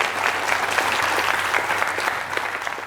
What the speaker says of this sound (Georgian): აპლოდისმენტები გიორგის